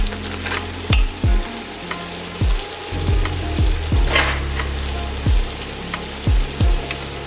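Mini ravioli stirred in a creamy cheese sauce in a pan, with a steady sizzle under a string of repeated low, thick thumps and scrapes of a spoon at a slightly uneven pace.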